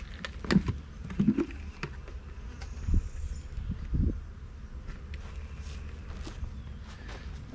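Bees feeding on Ultra B pollen substitute, a steady close buzzing hum with a few louder bumps and passing drones above a low background.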